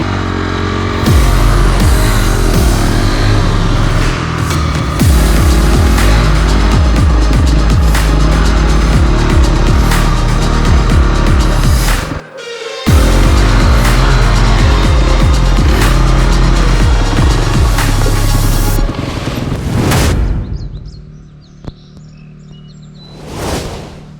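A Honda CRF 250X dirt bike is ridden in Vermont's Green Mountains, its loud engine droning and revving close up for about twenty seconds. The engine briefly cuts out partway through, then fades away near the end, leaving faint birdsong.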